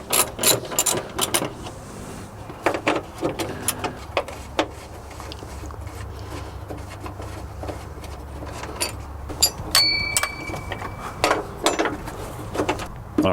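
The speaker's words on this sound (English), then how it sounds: "we got a ratcheting thing now" A hand ratchet clicks in short irregular bursts while working a tight bolt loose during a timing belt job, close and fairly loud, with brief pauses between strokes.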